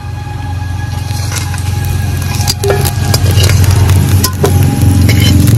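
Potatoes frying in hot oil for a Bengali bitter gourd mustard dish, giving a steady, loud, dense sizzle that runs through the whole stretch, with brief scraping or stirring clatters now and then.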